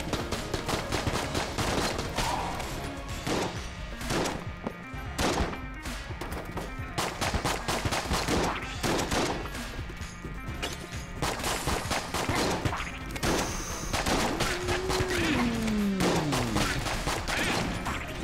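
Dense, continuous gunfire in Enter The Gungeon, rapid shots and bursts hammering without pause through a hectic bullet-storm fight, with an occasional brief voice buried underneath.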